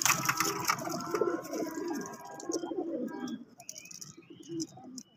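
Pigeons in a loft coo and call almost without pause, several birds overlapping in low throaty rolls with occasional sharper chirps, close and fairly loud, the activity thinning toward the end.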